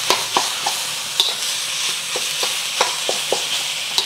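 Steady sizzling of meat stir-frying in a pan for fried rice, with repeated light scraping taps of a utensil stirring at an uneven rhythm.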